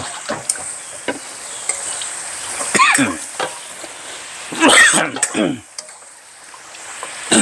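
Steady sizzling of vegetables cooking in a pot without added water, with scraping and clattering stirring strokes and some movement throughout.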